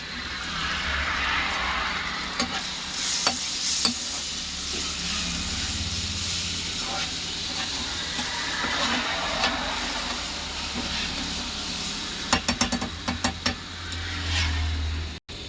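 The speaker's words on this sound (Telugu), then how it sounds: "అల్లం వెల్లుల్లి పేస్ట్ ఇప్పుడు పచ్చివాసన పోయేదాకా వేపుకున్నాను" Ginger garlic paste frying in a pan for crab curry, a steady close hissing sizzle running throughout, with a few sharp clatters of a spoon against the pan near the end.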